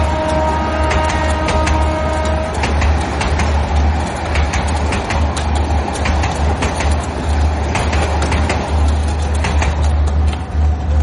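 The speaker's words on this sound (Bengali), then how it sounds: "চলে গেল নারায়ণগঞ্জ অভিমুখী নারায়ণগঞ্জ কমিউটার" The Narayanganj Commuter train rolls past on the Dhaka–Narayanganj dual-gauge line at Shyampur with a loud, continuous rumble and clatter of wheels, steady throughout at close range.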